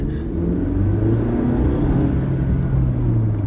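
A 222 kW Ford Ranger Wildtrak pickup in two-wheel-drive form, sending all its power to the rear tires, accelerates hard with a steady, loud, close engine rumble that holds throughout, heard from inside the cabin.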